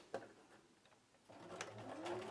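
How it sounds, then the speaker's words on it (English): A home sewing machine stitches an elastic seam, starting with a few sparse clicks and taps, then running in a steady, fast mechanical whir with rhythmic ticking, close and fairly quiet, with no speech. "I'm going to take my elastic over to the sewing machine with right sides together. I'm going to sew just down center back."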